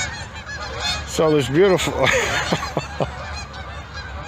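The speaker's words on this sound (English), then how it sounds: "84 geese flying above" A flock of geese honks repeatedly while flying overhead, calls loud and close in an irregular run lasting a few seconds, with a voice briefly speaking alongside them.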